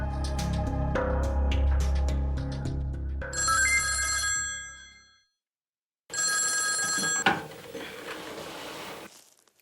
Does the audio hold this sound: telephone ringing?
yes